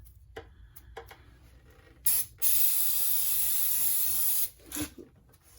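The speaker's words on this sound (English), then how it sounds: "Liberally soaking it down with brake clean." Brake cleaner sprays onto greasy truck suspension parts in a loud, close, continuous hiss lasting about two seconds, with a short burst just before it and faint clicks and handling noises around it.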